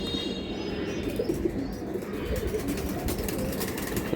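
Pigeons of several breeds kept for sale, including Silver Giribaz and Gorra birds, coo in low repeated burbles near at hand, the calls overlapping steadily with scattered clicks and rustling among the birds.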